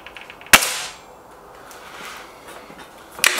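Two sharp air rifle shots from a break-barrel Gamo Whisper X or Hatsan 900X, each a crisp close crack with a short ring, about three seconds apart in a quiet setting.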